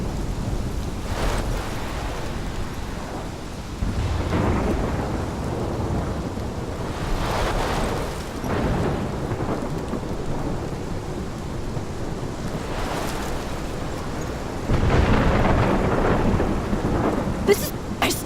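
Thunderstorm in the video game Life is Strange: steady heavy rain and wind under repeated low rolling thunder swells, loud and continuous with no voices.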